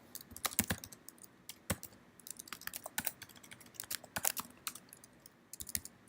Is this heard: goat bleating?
no